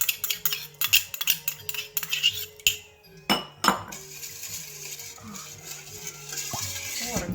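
A metal utensil stirs garlic and sauce in a pan for pad thai, giving a string of sharp, close clinks and scrapes that are irregular and bright. A softer, steady sizzle-like wash follows.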